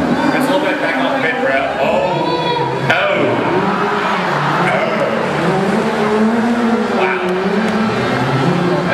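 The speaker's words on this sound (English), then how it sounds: "You want to make that car go faster?" Stunt car engine revving with squealing tires at a Disney World live motor stunt show, loud and continuous under crowd noise and an announcer talking over a PA.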